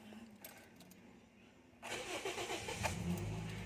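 A 2014 Toyota Vios with a hard-starting fault and a newly replaced fuel filter cranks briefly and fires up, settling into a close, steady idle after a quiet lead-in.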